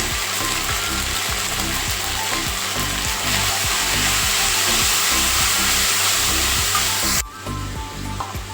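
Ginger and green chilli paste with salt and turmeric are sautéed for a cauliflower and potato curry, under a loud, constant hiss with a steady mechanical rattle that cuts out abruptly near the end, no voices heard.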